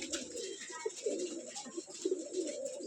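Racing pigeons coo repeatedly in soft, low murmuring calls over a steady bright background hiss, with several overlapping birds close by.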